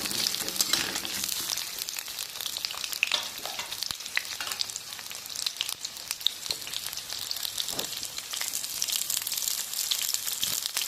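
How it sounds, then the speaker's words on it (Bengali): Vegetables fry in hot oil for a Bengali mixed-vegetable chorchori, a dense continuous sizzle like light rain, with faint stirring clicks throughout and no voices. "তেলটা গরম হয়ে গেলে আমি সব সবজিগুলো ভেজে তুলে নেব।"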